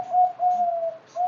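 A zebra dove (perkutut) coos close by in a quiet setting, giving two sustained tonal notes and the start of a third, clear and alone.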